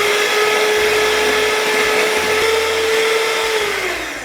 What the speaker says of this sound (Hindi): 2 मिनट आपको आराम से इसको इलेक्ट्रिक हैंड मिक्सर के साथ whip करना है